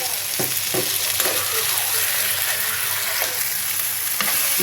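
Bay leaves frying in hot oil in a pan: a bright continuous sizzle with a few soft stirring knocks, close and steady, no talking.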